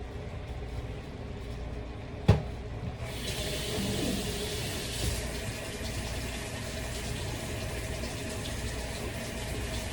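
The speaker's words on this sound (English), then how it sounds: "And I'm rinsing them off with nice cold water. And I'm putting my hand through and making sure they're all separated." Cold tap water runs steadily over cooked penne noodles in a kitchen sink, a continuous rushing splash that starts after a sharp knock and holds at moderate loudness, close by.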